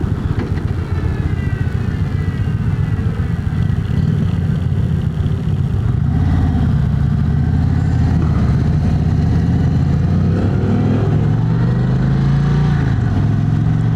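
Indian Springfield Dark Horse motorcycle engine running steadily while riding, a continuous mid-pitched rumble with the pitch shifting as the rider changes speed, close and fairly loud throughout.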